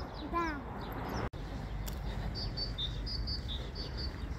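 Birds chirp and sing outdoors over a steady rumble of background noise, with a clear descending call near the start and brief high tweets later, all fairly faint against the ambient sound.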